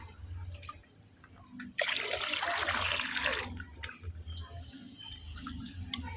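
Water poured onto the soil of flowering plants in a garden, a bright splashing gush lasting under two seconds over steady low background hum, with faint drips before and after.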